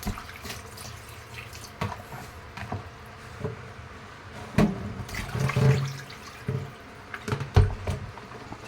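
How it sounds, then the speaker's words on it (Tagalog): String beans and mustard greens being washed under running kitchen tap water in a crowded sink, with splashing that rises and falls in uneven bursts and no voices. "Ganon din sa sitaw, kailangan hugasan ng maigi."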